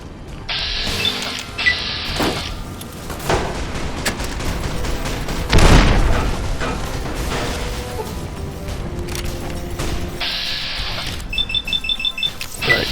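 A dynamite blast goes off in Fallout: New Vegas, a loud broad boom midway through a dense, noisy stretch of game effects and mechanical clatter, with beeping tones near the start and end.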